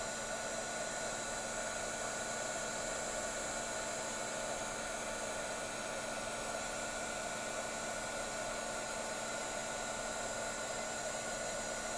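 A heat gun blows a steady, loud, unbroken hot-air roar while melting embossing powder on a craft project, holding an even whooshing hiss throughout with no other sounds.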